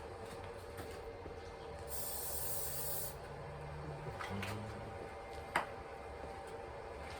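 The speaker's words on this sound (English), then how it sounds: "I'm going to spray it with a little Pam while I cook the egg." A brief hissing burst of Pam cooking spray on a George Foreman grill lasting about a second, heard over a steady low mechanical hum, with a faint click afterward.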